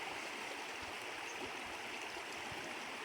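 Water in a rocky stream in Bulacan flows steadily, a soft continuous rushing hiss with faint gurgles, quiet and unbroken with no voices.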